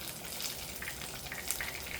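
Breaded pork chops frying in a large frying pan, a steady close sizzle with bright crackling pops throughout, no voices.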